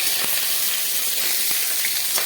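Chopped onion, bay leaf and dried red chili fry in hot oil with a close, continuous hissing sizzle and a few soft stirring taps, with no voices.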